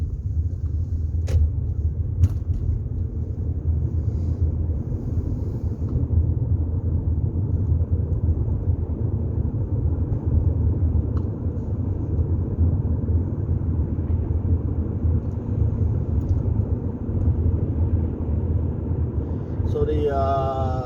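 A car drives along a state highway near Lynnwood, Washington, a steady low road rumble and engine drone heard from inside the cabin throughout, with a few faint clicks and a rising whine near the end.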